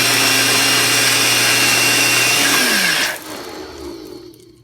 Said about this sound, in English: Get the blender here.